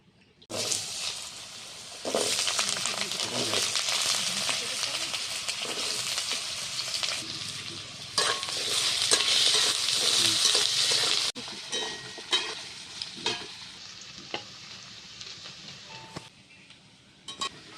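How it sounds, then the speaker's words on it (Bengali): Loud, steady sizzling of potatoes frying in hot oil, with occasional stirring scrapes and clinks; the hiss eases a little toward the end. "কড়াতে আমি তেল দিয়ে দিচ্ছি তেল গরম হয়ে গেছে আলু কুচিটা দিয়ে দিচ্ছি"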